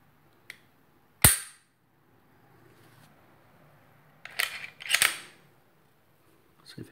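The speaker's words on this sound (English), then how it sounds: "But this trigger is so nice, and I'm hoping that you can see and hear it." Dry-fire trigger clicks from a CZ P10 C pistol: a few sharp, isolated mechanical snaps spaced apart in near silence, one crisp click followed later by a cluster of quicker clicks.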